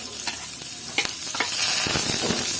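Onions sautéing in hot oil for Filipino pork adobo, a steady close sizzle with a few scrapes of a spoon stirring through the pan, no one talking.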